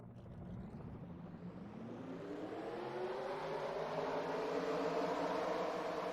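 Race car engines in a NASCAR-style sim racing game fire up for the Mountain Dew 400 at Darlington, rising into a continuous revving drone that grows louder and climbs in pitch. No voices are heard.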